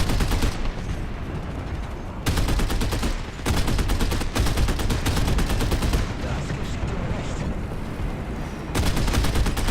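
Rapid gunfire in the aerial combat game Skyshield, dense and continuous bursts of shots in long runs separated by brief gaps.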